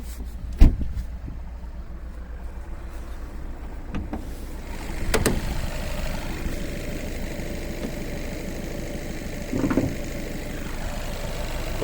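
A 2014 Skoda Octavia A7 1.6 TDI diesel engine with six-speed manual idles steadily and quietly, a low even hum with a few sharp clicks and knocks around it.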